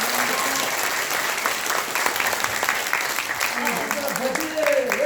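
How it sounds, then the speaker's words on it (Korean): An audience at an event held at the National Assembly applauds, sustained dense clapping from a crowd throughout, with a voice speaking faintly over it. "다시 한번 큰 박수 부탁드립니다"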